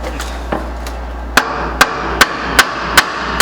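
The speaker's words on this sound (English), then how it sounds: "can we just take a hammer? Maybe we can tap on the back." A hammer taps on the brake drum of a Chevy Impala: a few faint knocks, then six sharp metallic strikes at an even, roughly half-second rhythm, close and distinct.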